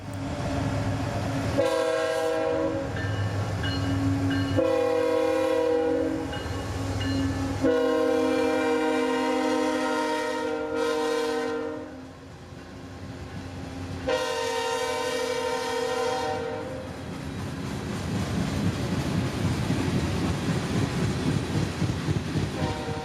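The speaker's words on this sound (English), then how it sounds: "a big revving freight train was really a sight to see and hear" Heavy freight locomotives rumble and roar close by as their engines rev in Folkston, Georgia, with loud blasts of a multi-tone train horn sounding repeatedly over the din.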